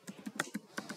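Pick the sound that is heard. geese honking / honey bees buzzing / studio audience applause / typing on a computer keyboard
typing on a computer keyboard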